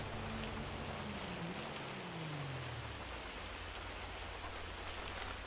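Rain falling in a roleplay video game scene, a steady dense hiss of downpour filling the whole stretch, with a low engine-like tone sliding downward early on and no talk.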